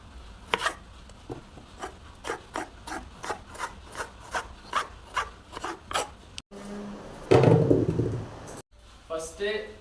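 A knife chops biryani ingredients on a wooden board in a rhythmic run of about a dozen crisp strokes. Rustling and handling noises follow.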